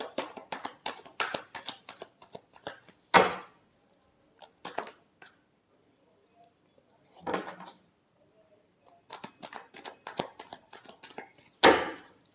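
Tarot cards being shuffled by hand: bursts of quick crisp riffling and flicking with sharp slaps between quiet pauses, close and fairly loud.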